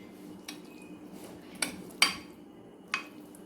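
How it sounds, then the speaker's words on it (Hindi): A spoon knocks and scrapes against a bowl while chana chaat ingredients are mixed, four separate clinks spaced apart over a quiet background, close with no talking. "अब इसको अच्छी तरह मिक्स करके"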